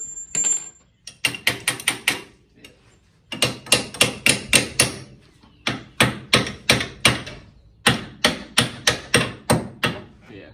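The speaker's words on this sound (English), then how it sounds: "I'll use this hammer right here for" Repeated hammer taps on the axle of a Polaris RZR 1000 side-by-side during an axle replacement, struck in quick bursts of four to six sharp metallic blows separated by short pauses, loud and close with no talk.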